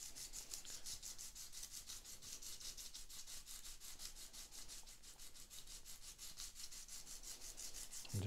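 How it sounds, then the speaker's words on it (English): Steady, faint rasping strokes in a quick regular back-and-forth rhythm as a guitar part, from a 12-string guitar, is sanded by hand; close, continuous and without talk. "I'm just going to start sanding back and forth."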